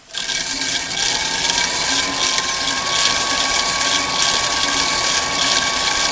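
A Chinese mini lathe spindle spins up on a 3-phase motor driven by a VFD, giving a steady, loud whine with a high electronic tone and a slowly rising pitch. The sound is continuous and close, with no talking.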